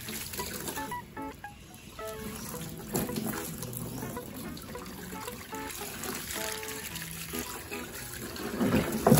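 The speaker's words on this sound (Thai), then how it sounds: "ตอนนี้ก็เอาน้ำนะครับผมน้ำลงไปโอเค" Water poured into an enclosure housing African bullfrogs, a steady close trickling and splashing stream that runs continuously for several seconds at moderate level, with no talk over it.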